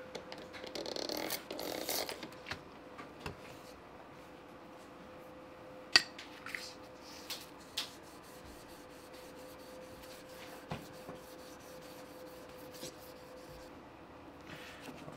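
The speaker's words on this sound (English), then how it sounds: "We're going to put a light polish on the end of this guy." Cast aluminum polished by hand with 2000 grit sandpaper: a short burst of soft, close rubbing strokes, followed by sparse faint scrapes and small taps in a quiet room.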